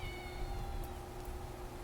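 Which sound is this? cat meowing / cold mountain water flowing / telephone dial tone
cat meowing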